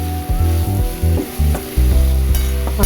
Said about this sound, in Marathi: हे छान आता आपण परतून घेऊया. मस्त शिजू द्यायचं या भाज्यांना.